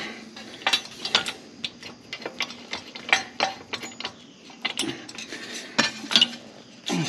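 Metal bolts and small plugs being fitted for GIVI engine guards on a Moto Guzzi V85TT: irregular close clicks, ratcheting and light metallic clinks, with no talk.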